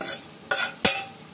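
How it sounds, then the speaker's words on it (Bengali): Potatoes, carrots and peas are stir-fried in a pan, with three quick spatula scrapes over a faint sizzle. "এগুলো একটু কষাতে হবে"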